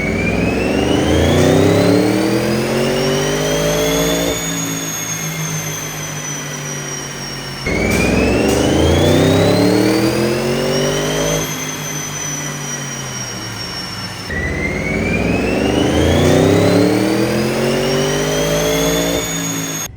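Audi RS7 V8 engine revving hard on a dyno in stock form, three long loud pulls each climbing steadily in pitch through the gears before cutting off, with a brief dip between runs.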